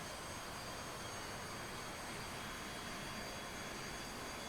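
A UH-60L Black Hawk helicopter in a flight simulator starts up, giving a steady broadband turbine hiss and whine that holds constant and fairly quiet throughout, with no voices.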